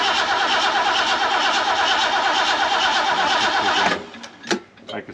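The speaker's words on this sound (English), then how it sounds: "let's try it one more time. I think I got her flooded." A flooded Ford engine cranks steadily in a long, even churning rhythm for about four seconds without catching, then cuts off, followed by a few brief clanks and knocks.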